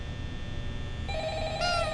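A telephone rings in the Roblox version of Five Nights at Freddy's, its bell-like tones rising in over a low room drone partway through and growing louder toward the end.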